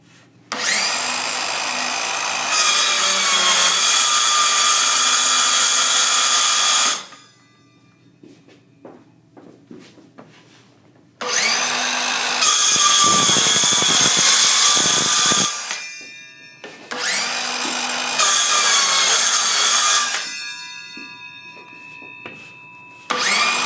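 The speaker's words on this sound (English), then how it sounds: "Now I'm going to cut into the corners." A power saw cuts into the corners of damaged floorboards during a board replacement, three loud, high-pitched bursts of several seconds each separated by quieter gaps with faint handling noises.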